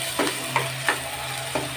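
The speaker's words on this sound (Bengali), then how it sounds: "চিংড়ি মাছ দিয়ে দেব, ভালো করে নাড়তে হবে।" Prawns with taro stolons are stirred in a frying pan, a low steady sizzle punctuated by four quick scraping strokes of a spatula, close and fairly loud.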